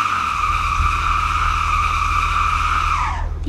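A steady, high tire squeal from a Bugatti braking with slippery tires in Roblox Driving Empire holds over a low engine drone, then dips and fades as the car stops.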